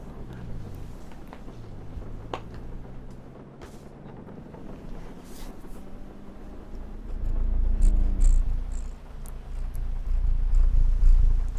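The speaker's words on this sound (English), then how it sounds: "my cat's purring" A cat purring close to the microphone, a low rumbling purr that grows louder and fuller in the second half, with no talking.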